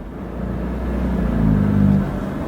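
A BMW with a Bootmod3-tuned fast-shifting transmission cruises along, its engine a steady low hum that swells briefly and then eases back, heard alone without talk.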